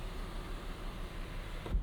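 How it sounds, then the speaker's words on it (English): Electric sunroof motor opening on a 2023 Hyundai Elantra N Line, a steady soft whirring hum from inside the cabin, ending with a faint thunk as it stops. "Nice sunroof. I'll open this up,"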